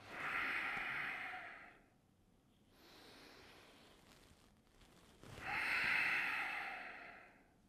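Slow, deep diaphragmatic breaths during a warm-up exercise: a long inhale, a quieter pause, then another strong airy breath, close and alone without speech.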